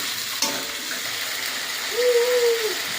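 Chicken fries with spices in a pan, a steady, moderate sizzle running throughout, with a brief scrape and a faint tonal whine near the end.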